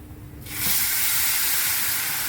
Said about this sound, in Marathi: खरपूस भाजून घेतले आणि त्यातच मी आता दूध टाकते आहे